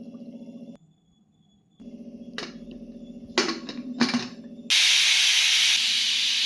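A pressure cooker cooking beef for a Kerala beef dish, with a steady rattling hum from the whistle weight, brief bursts of venting, then a loud, sustained hiss of steam release that continues to the end.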